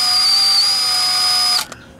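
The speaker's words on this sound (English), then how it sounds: "you take your drill, you get it like this right here" A power drill lightly marking centers in metal, a loud close steady whine running for about a second and a half before stopping, followed by a faint brief rattle.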